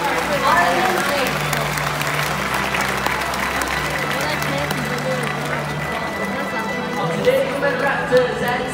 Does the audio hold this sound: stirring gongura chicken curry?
no